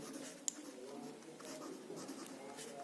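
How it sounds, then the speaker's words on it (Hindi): Pen writing on paper during a maths lesson, a faint steady scratching stroke with a brief click, close and quiet, a voice heard only faintly. "पहले तो हम लिखते हैं"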